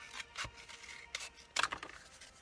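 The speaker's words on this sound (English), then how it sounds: "Now take your toilet roll and cut halfway down" Scissors cut through a cardboard toilet roll in a few quiet, crisp snips, with a short burst of quick cuts near the end and no one talking.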